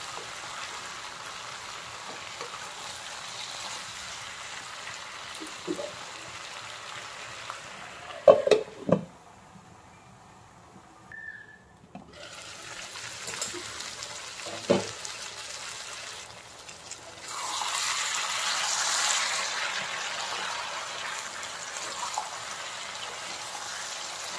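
Kolhapuri-style mixed vegetables cooking in a pan over a medium flame after salt is stirred in: soft sizzling with a few utensil clinks, swelling into a louder steady hiss near the end.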